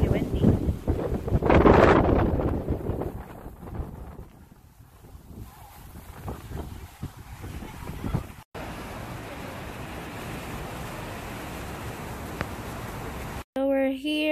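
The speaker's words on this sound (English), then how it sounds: "It's really windy." Strong wind buffets the microphone in heavy gusts at Lake of the Clouds in the Porcupine Mountains by Lake Superior, loudest at the start, then settles into a steady rushing roar with water sounds.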